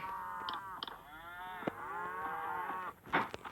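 Cow in the video game Survivalcraft 2 lowing in several drawn-out, wavering moos, loud and close, with short clicks and bumps of game noise between calls and no talking.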